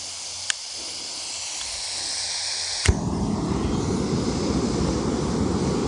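MSR Pocket Rocket 2 camping stove lit with a ferro rod: faint gas hiss with a couple of sharp sparks, then a click as it ignites into a loud, steady roaring burn close by.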